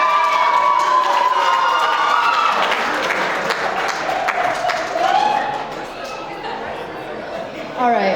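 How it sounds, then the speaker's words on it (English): Wedding reception guests applaud and cheer loudly for the maid of honor, a dense wash of clapping with shouts and chatter that fades slightly toward the end. "Keep your applause going for Sydney Sony"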